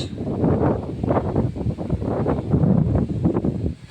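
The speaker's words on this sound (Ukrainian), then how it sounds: "Зривається сильний вітер" Gusty wind buffets the microphone in uneven rumbling bursts, loud and close, with no voices.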